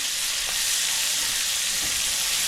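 Onions fry in a hot pan with a loud, steady sizzle and crackle, plus a faint stir or two, with no one talking.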